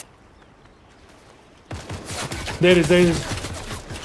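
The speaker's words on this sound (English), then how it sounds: "Someone is shooting." Bursts of rapid gunfire in the Fortnite video game, a dense crackling volley that starts abruptly partway through and continues to the end, loud and close, with brief speech over it.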